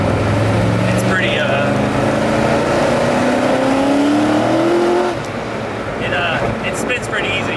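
A Corvette built as a Need for Speed Most Wanted replica accelerates hard, its engine note climbing steeply through the revs before a brief drop at a gear change, loud and close from inside the car, with voices talking over it.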